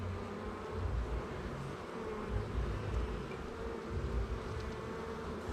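Honeybees buzz steadily around an open hive during an inspection, a continuous low droning hum that stays fairly even and close throughout, with no talking.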